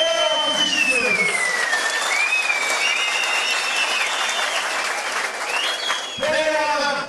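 A crowd applauds the head wrestlers at a Turkish oil wrestling tournament, dense clapping running throughout while someone speaks and sings over a loudspeaker, with a pause near the end.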